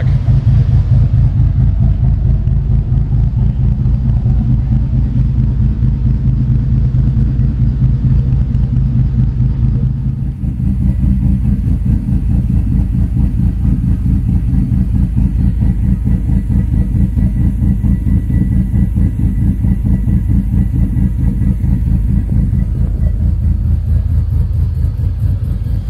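A car engine running on a Link ECU idles steadily after idle and base timing tuning, with a loud, even low rumble throughout and a brief dip near the middle, no talk.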